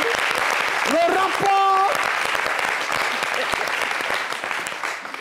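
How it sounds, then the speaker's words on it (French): A studio audience at an Ivorian showbiz talk show claps loudly and steadily the whole time, while voices talk and cheer over the applause. "Est-ce qu'on peut applaudir?"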